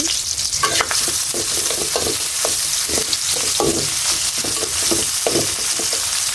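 Onions frying in soybean oil in a pan (kadai) while cooking a hilsa fish head and tail with taro, with a steady sizzle and repeated stirring scrapes throughout, with no talking.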